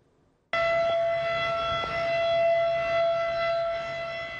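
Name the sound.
civil defense flood warning siren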